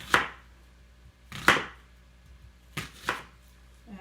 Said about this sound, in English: Then for this much, I do half of a large onion, chop it up.